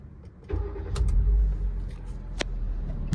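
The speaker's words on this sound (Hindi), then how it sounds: "पहले गाड़ी को स्टार्ट करते हैं और इसका साउंड देखते हैं।" A Hyundai i20 car's engine starts with a brief crank, catches into a loud rumbling idle that settles to a steady hum, close by with a couple of sharp clicks.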